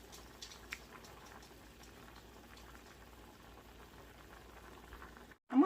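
A pot of cheesy asparagus and potato soup simmers gently, soft bubbling pops and faint gurgles going on quietly and steadily, with a brief louder clunk at the end.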